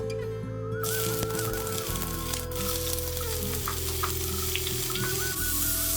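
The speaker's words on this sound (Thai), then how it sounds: "เดี๋ยวเราจะผัด ให้เขาสุกดีก่อน" Thin slices of yellow tofu stir-frying in a pan for a vegetarian dish, a steady close sizzle running throughout with occasional scraping and stirring, background hum and a faint tonal whine underneath, no talking.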